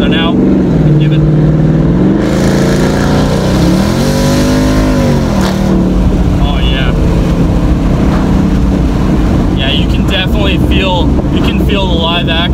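A 2014 Ford Mustang GT Premium with a Coyote V8 revs and accelerates up close, its engine note rising and falling under steady wind noise while someone talks over it.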